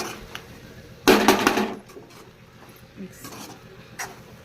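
Grated coconut being stirred into masala frying in oil without water in a pan, a loud burst of scraping and sizzling near the start followed by quieter clinks and stirring sounds.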